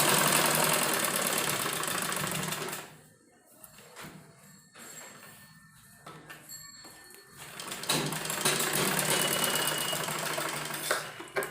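A sewing machine runs steadily while stitching a kurti sleeve hem, a dense mechanical whir that pauses briefly midway with a few soft knocks and handling sounds, then resumes at full speed, close and loud.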